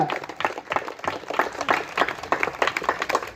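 A crowd at a Rajahmundry press club Karthika picnic gathering claps in a dense, continuous patter of many hands, fairly loud and close throughout.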